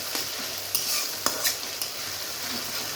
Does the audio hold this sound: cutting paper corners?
no